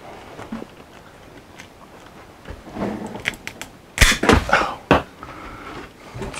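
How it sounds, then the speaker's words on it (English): Cable cutters snipping the end off a steel cable on a slide room mechanism, a few sharp crunching snaps near the middle amid quieter handling clicks and rustle, close and without talking. "I'm going to take my cutters, they're specially made for cable, and I'm going to cut this end off."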